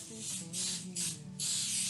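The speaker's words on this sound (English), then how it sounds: "I do have some coconut cooking spray that I'm going to go ahead and spray my pan with." Coconut cooking spray is sprayed onto a bread pan in three close, loud hissing bursts separated by short pauses.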